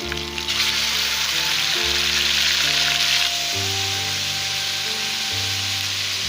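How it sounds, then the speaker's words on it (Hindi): A steady, loud sizzle of green chili and onion paste frying in a hot pan, with a low hum underneath and occasional stirring scrapes. "अब ये सब्ज़ मिर्ची और प्याज का पेस्ट ये शामिल कर रही हूँ।"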